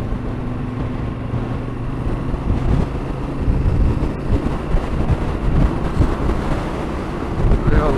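Side wind buffets the microphone of a Yamaha Ténéré 700 motorcycle riding in rural Wales, a steady loud rumbling roar with gusting swells over the low engine drone and no talking.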